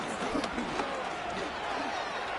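Home crowd cheering in a Madden football video game, a continuous dense roar of many voices filling the background with a few sharper swells.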